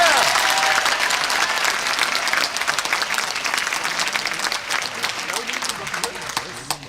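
Audience applause fills a hall at a talk on the cost of war, a dense, sustained wash of clapping from many hands that holds steady and then thins slightly toward the end, with cheering voices mixed in.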